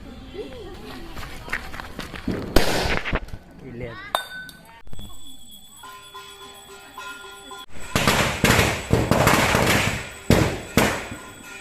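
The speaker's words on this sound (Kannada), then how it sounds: "ಪಟಾಕಿ ಸೌಂಡ್ ಎಲ್ಲ ಕೇಳ್ಬಹುದು" Firecrackers burst in neighbouring homes during a Tulasi festival celebration, sharp intermittent cracks and crackling volleys at varying distance, with bursts of voices and clinking between them.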